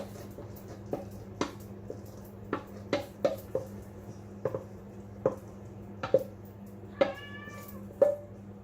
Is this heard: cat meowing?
yes